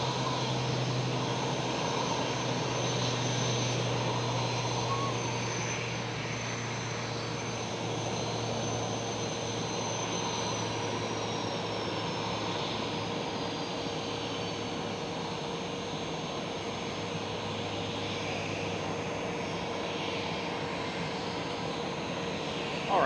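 EasyJet Airbus A320 jet airliner at Amsterdam Schiphol gives a steady engine drone with a high whine that slowly falls in pitch, moderately loud and continuous at a distance.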